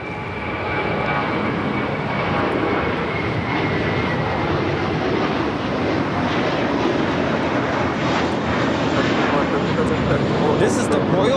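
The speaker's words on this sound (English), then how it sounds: "Do have a JetBlue A321 now taking off here on the south side." A JetBlue Airbus A321 taking off from the south side at LAX: a loud, sustained jet engine roar building and holding, with someone talking over it.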